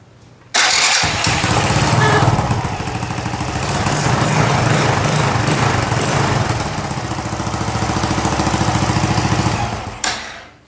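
An Aprilia Daytona RS125 two-stroke motorcycle engine, under repair for low compression, fires abruptly and settles into a loud, steady, rattling idle close by before cutting off near the end.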